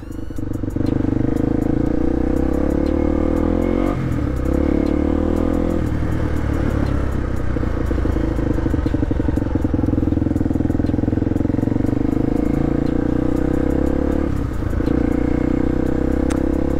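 A 1998 Honda XR250R dirt bike engine idles steadily at close range with a loud, even thumping drone and slight fluctuations in revs, running continuously throughout.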